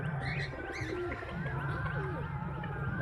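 Racing pigeons on their first day out give soft, wavering coos and chirps, close and continuous against a busy outdoor background.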